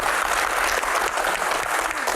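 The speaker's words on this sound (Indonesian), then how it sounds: "Tepuk tangan." Steady audience applause during a question-and-answer session, dense even clapping from a crowd held at a constant level throughout.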